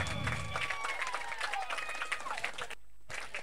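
Spectators clapping after a dot ball at a children's cricket semi-final, a steady moderate patter of applause beneath a commentator's voice, cutting off abruptly near the end.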